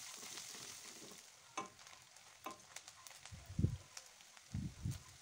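Onions frying in oil for besan curry, a soft sizzle stirred now and then, with scraping and a few louder low thumps near the end, close and fairly quiet.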